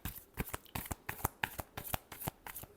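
Tarot cards being shuffled by hand, a quick series of crisp riffling snaps close up with a fairly even rhythm.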